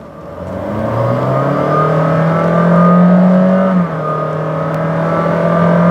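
A 2021 Honda City RS e:HEV i-MMD hybrid accelerates hard, its loud engine note climbing steadily in pitch, dipping briefly and then droning on strongly, heard from close up with no talking.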